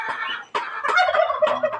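A turkey gobbles up close on a farm, a rapid, warbling burst repeated a few times in quick succession.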